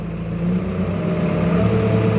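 A backhoe loader's diesel engine rumbles close by and rises slightly in pitch as throttle is applied, a steady low growl building louder toward the end.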